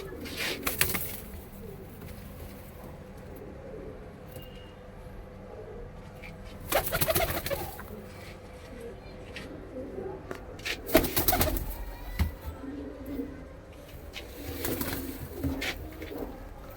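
Pigeons coo softly in low, repeated calls, with a few louder rustling bursts and faint background noise.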